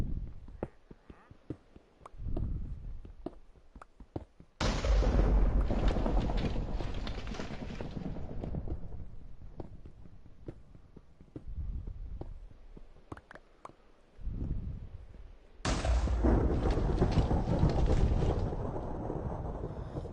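Minecraft thunderstorm with lightning strikes, two loud booming thunder crashes that hit suddenly and roll on for several seconds, separated by quieter stretches of ambient game sound.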